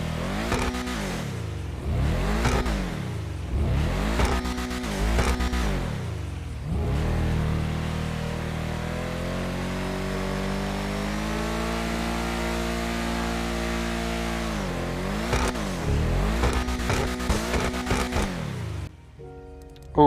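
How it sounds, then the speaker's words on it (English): The Ubermacht Cypher (BMW M2) sports car engine from a video game revs sharply in several quick bursts, then holds a long rising whine before revving again. "let's listen to the rev and listen to the engine sound"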